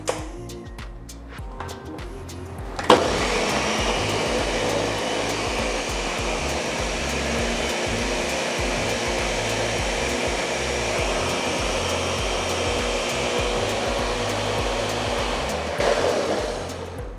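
A loud, steady blender motor whirr mixing a protein smoothie kicks in abruptly and runs continuously for about thirteen seconds before cutting off, with faint rustling before it starts.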